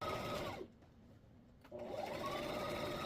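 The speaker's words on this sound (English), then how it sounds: "we are just going to do a top stitch all the way around the apron" A sewing machine top stitches around the edge of an apron, running in a loud steady whir that stops for about a second and then starts again.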